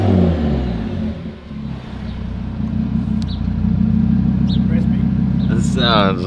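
Audi RS3 with a 034 Motorsport aftermarket exhaust heard from the cabin, engine climbing through a long loud rev toward the top end, with a voice breaking in near the end.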